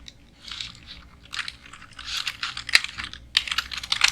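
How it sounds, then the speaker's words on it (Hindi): Computer keyboard typing in a classroom-style word processing lesson: irregular bursts of close, light key clicks with brief pauses between words. "मैं पहले कोई टेक्स्ट यहाँ पे टाइप कर लेता हूँ।"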